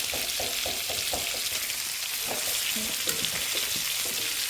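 Chicken pieces for chilli chicken fry in a pan with a dense, continuous sizzle, while rhythmic scraping from a spatula stirring and spreading them carries on under it, close and steady, with no talking.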